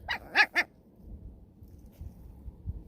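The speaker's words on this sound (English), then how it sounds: "Crazy dog." A dog gives three quick, sharp barks close by, then falls quiet to soft low background rustling.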